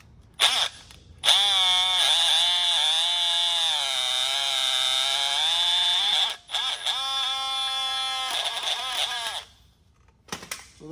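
A handheld drill fitted with a 1/2-inch bit grinds into a Chevy/GMC ball joint, its motor whining loud and steady with pitch wavering under load, pausing briefly midway and then resuming before stopping.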